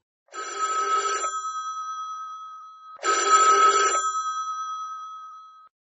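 Telephone bell ringing indoors: two long trilling rings about three seconds apart, each a rapid rattling buzz that fades out, clear and alone in silence.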